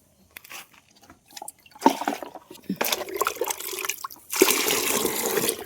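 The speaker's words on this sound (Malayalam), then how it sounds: "ബക്കറ്റ് വെള്ളമെടുത്ത് എടുത്ത് സ്യൂഡോമോണസ് ചേർത്തിട്ട് നമ്മുടെ എല്ലാ ചെടികൾക്കും ഒഴിച്ചു കൊടുക്കാം" Water from a bucket splashing and pouring onto plants in bursts, getting heavier toward the end, with scattered clatter and a voice briefly in the background.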